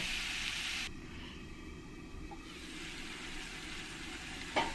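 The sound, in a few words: potatoes sautéing on medium flame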